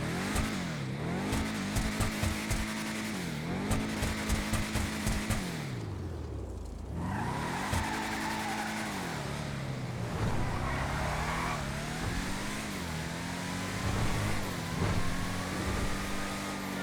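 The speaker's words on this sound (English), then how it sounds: "Let's go ahead and do a little sound test on the car before we get into the review." The Bravado Hotring Hellfire stock car in GTA Online revs hard through repeated rising and falling engine sweeps, loud and close, with a brief drop near the middle before climbing again and ending in a sustained high drone.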